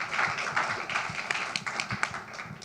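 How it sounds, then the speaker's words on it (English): An audience at a nonprofit talk gives a round of applause, many hands clapping in a fairly even, moderately loud patter that holds for a few seconds. "let's just give them a round of applause and thank them"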